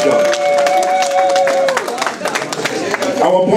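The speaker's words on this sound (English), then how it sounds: "I want us to give a hand of applause for that region" Scattered applause from a crowd at a funeral rises and fades under a speaking voice, with a sustained musical tone at the start.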